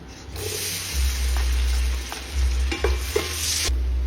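Onion sizzles in butter in a hot pan for chicken sopas, a steady loud frying hiss with stirring scrapes and clatter through it, close and alone without talk.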